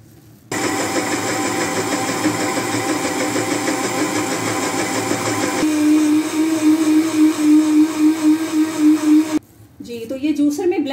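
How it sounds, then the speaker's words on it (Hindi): A kitchen blender purees cooked peaches for peach lemonade, a loud steady motor whir that starts abruptly, drops to a lower droning pitch partway through, then stops briefly before restarting. "उसके बाद इसको ब्लेंडर में ब्लेंड करते हैं"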